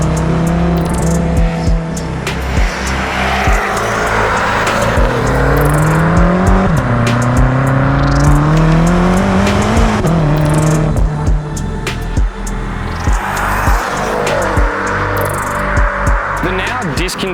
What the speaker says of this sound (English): today I'm going to be driving this gorgeous pearlescent white BMW M6